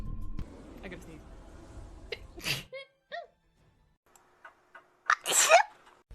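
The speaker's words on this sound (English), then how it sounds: "I gotta sneeze." A VTuber sneezes twice, each one a sharp burst that follows short catching breaths and small vocal noises. There are quiet pauses between them and some muffled talk and background sound at the start.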